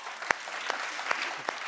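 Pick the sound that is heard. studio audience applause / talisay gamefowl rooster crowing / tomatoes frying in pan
studio audience applause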